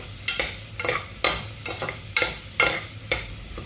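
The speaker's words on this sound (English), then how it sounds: "I kind of feel nice to just stir up the vegetables that I'm frying in" Vegetables frying in a pot for a one-pot vegan rice and lentil dinner, stirred in a steady rhythm of about eight close scraping strokes over a soft sizzle, no voices.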